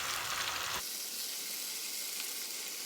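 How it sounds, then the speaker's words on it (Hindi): Suji aloo snack bites sizzle in hot oil in a pan, a steady close hiss that drops slightly in intensity partway through, with no talking. "अब हमने इनको फ्राई करते जाना है"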